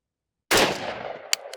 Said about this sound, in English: Drop the mag, I'll just shoot one.